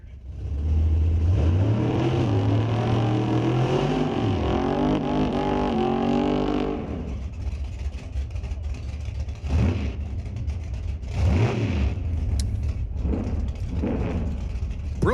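Drag race car launching hard down the strip, a loud rising engine roar with climbing revs and gear changes, fading after several seconds into distant engine noise and track ambience.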